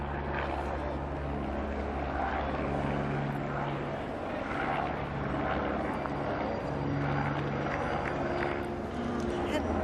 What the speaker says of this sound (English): Maybe able to hear that noise, perhaps, having our afternoon visit from the local chopper.